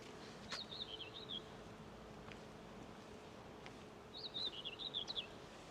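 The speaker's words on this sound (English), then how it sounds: "You could probably hear the white throat." A whitethroat sings two short scratchy warbling phrases, one near the start and one near the end, over a faint buzzing background hum, at The Landslip on the Isle of Wight.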